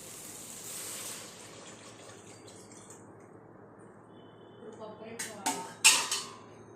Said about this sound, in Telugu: రెండు గ్లాసుల బియ్యానికి మూడు గ్లాసులు నీళ్ళు అయితే వేసేస్తాను